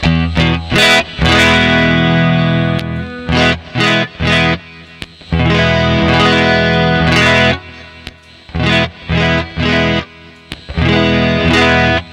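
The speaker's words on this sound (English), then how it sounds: "I'll turn the compressor off and then on." An electric guitar plays through a compressor pedal into an amp simulator, first with the pedal off and then on, with loud distorted chords and notes in choppy bursts separated by short pauses, close and alone.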